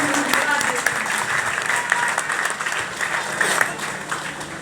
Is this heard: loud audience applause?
yes